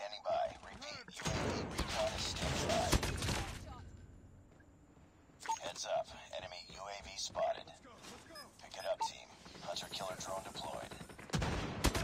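Carabina MK2 marksman rifle firing in Call of Duty Mobile, bursts of sharp shots in two clusters separated by a quieter gap, with someone talking over the gunfire.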